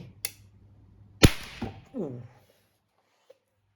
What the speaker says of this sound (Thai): โอ้โห ระเบิดเรียบร้อยครับ